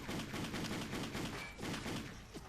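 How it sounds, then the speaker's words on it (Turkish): Gunfire in the Just Cause video game: rapid, dense bursts of shots close up, continuous and fairly quiet overall with brief dips between volleys. "Ben bunu vuruyorum."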